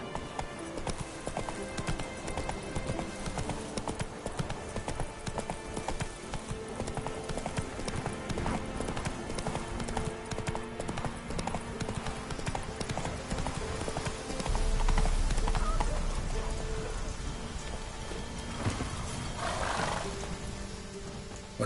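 Steady clip-clop of Geralt's horse Roach trotting in The Witcher game, continuous hoofbeats over a busy backdrop of ambient score and crowd noise, with a louder low rumble swelling midway.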